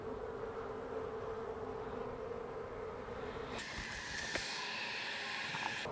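Honey bees fanning on a hive frame make a dense, even buzz that continues throughout, with a brighter, harsher layer of noise joining partway through. It is fairly faint and there is no talking.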